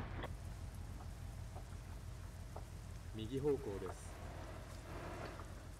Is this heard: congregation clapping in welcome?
no